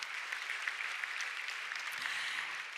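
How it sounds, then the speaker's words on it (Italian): Steady applause from a room full of people at an awards ceremony, a dense even clatter of many hands clapping that continues without a break. "l'applauso e i complimenti della sala"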